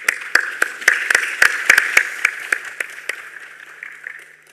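Clapping in a NATO Defence and Security Committee meeting room: sharp, distinct individual claps from a small group, fairly close, irregular at first and tapering off toward the end.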